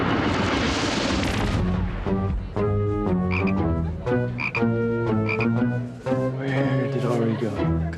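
A toad croaking in a loud, close, continuous series of throaty pulses that overlap and repeat steadily with no pause.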